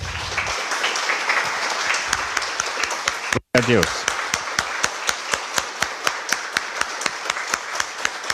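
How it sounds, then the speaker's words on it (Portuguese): A church congregation applauds together in steady rhythmic clapping, loud and close, with a brief cutout midway and a voice speaking over the clapping. "Vamos aplaudir Jesus."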